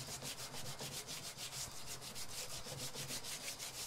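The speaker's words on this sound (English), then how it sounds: "So let's keep sanding, keep grabbing the guitar strongly so it doesn't move." Sandpaper scrubbing a Stratocaster guitar body during a relic finish, a steady rhythmic rasp of quick back-and-forth strokes, close and continuous with no talking.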